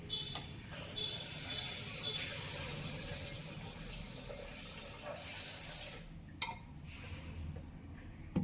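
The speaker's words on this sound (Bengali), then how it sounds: "এবং এতে জল অ্যাড করছি।" Tap water runs into a bowl of chicken with vinegar for washing, a steady close splashing and pouring that shifts slightly near the end.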